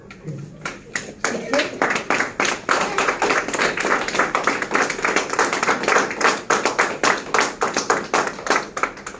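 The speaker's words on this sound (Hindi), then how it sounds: "अब सर जोर से ताली बजाएंगे" A group claps loudly at a sanitary napkin demonstration training session, sharp rhythmic claps in quick succession, preceded by a brief voice and with some talk mixed in.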